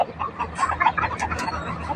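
Fighting cocks at a Thai gamecock breeding farm give short, close clucks and chatters in quick succession, with faint voices in the background.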